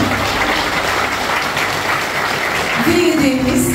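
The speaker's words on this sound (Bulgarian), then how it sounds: "Аплодисменти за Лугана" Guests applaud at an outdoor civil wedding ceremony, a continuous wash of clapping at steady level, with a brief voice or tone rising near the end.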